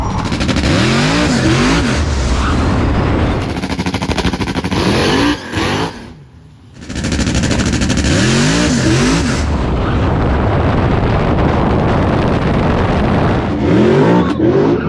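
Drag racing at a dragstrip, with a loud, sustained engine roar and rising revs as cars launch with tires spinning, continuous and close, dipping briefly before roaring again.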